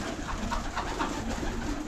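Pigeons coo in soft, repeated rolling calls, close and steady throughout with no voices, in a pigeon loft with grain feed.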